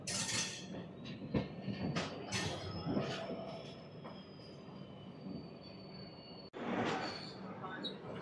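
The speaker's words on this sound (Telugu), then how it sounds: "Diesel loco, old diesel loco, చాలా పాత డీజిల్ లోకో." An old diesel locomotive train at Kharagpur railway station, with rumbling wagons, clinking metal and a long high wheel squeal drawn out over several seconds, heavy and close with a sudden brief dropout near the end.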